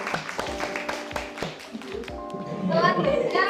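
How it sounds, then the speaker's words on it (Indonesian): Students in a classroom clap in a few separate bursts of hand claps, with voices speaking and calling out over them before the clapping grows louder at the end. "Tepuk tangan."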